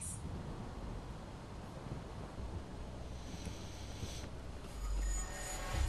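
A train in the video game World War Z rumbles on steadily with wind-like noise, low and continuous, growing slightly heavier near the end, with no talking.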